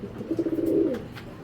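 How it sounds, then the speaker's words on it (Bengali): A pair of green-necked Giribaz pigeons coo close by, a short rolling series of soft, low coos that swell and fade within about a second. "এক জোড়া সবুজ গলা কাজলা গিয়ারের কবুতর, খুবই সুন্দর দেখেন মাশাআল্লাহ"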